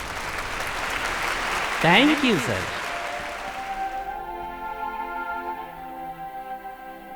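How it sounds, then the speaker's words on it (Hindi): An audience claps to welcome a speaker to the microphone at a public gathering, a steady wash of applause under a man's brief spoken thanks, fading away after about four seconds. "आप सब तालियां बजाइए, सेवक राम जी माइक पर आ रहे हैं।"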